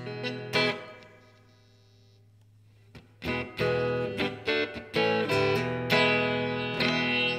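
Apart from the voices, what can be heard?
electric guitar through amp with reverb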